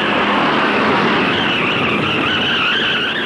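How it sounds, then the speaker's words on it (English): Stock cars spinning out in a multi-car first-turn crash, with a continuous loud roar of engines and tire skidding throughout, a sustained high screeching tone rising over the dense racing noise. "sends cars spinning in the first turn"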